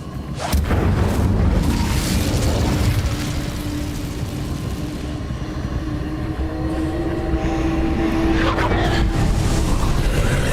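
In Hogwarts Legacy combat, a cast Incendio fire spell roars loudly and continuously, a dense rumbling blaze with booming bursts layered over it, close and heavy for the whole stretch without fading.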